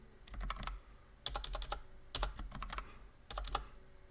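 Fingers type on a computer keyboard in four quick clusters of crisp, close clicks separated by short pauses, with no voices.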